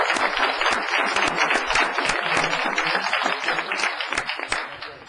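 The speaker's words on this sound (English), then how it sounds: "One more round of applause for the Mills." A round of applause at a city council meeting, with many hands clapping in a dense, steady patter that holds at moderate loudness from start to finish, with no talk over it.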